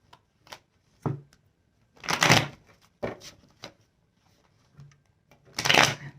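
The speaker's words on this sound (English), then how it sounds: "so I'm going to shuffle it 5 times" Tarot cards are shuffled close by in several bursts, with crisp riffling and soft taps and pauses between them, fairly quiet.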